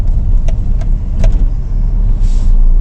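A car engine hums steadily from inside the cabin on a sunny drive, a low continuous drone with a few faint clicks and light rattles.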